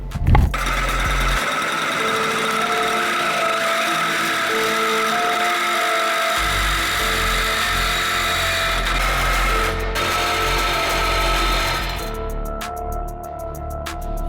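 A car exhaust pipe being cut and welded in a shop, a loud continuous buzzing and rattling tool noise that runs close and steady throughout before easing off near the end.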